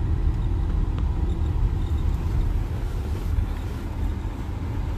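A car engine idles steadily close by, a dense low rumble that holds level for the whole stretch with no voices over it.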